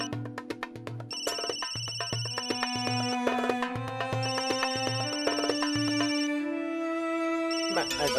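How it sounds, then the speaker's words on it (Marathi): A telephone ringtone at home rings in a repeating pattern of tones, clear and fairly close, with people talking over it. "बापरे, फोन म्हणजे मॅडमचा फोन असणार."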